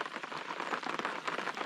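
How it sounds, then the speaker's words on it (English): Rain falls on an alpine lake surface and its surroundings, a dense, steady patter of many small drops, fairly close and even, with no talk over it. "You can hear the rain fucking hitting like the surface of everything."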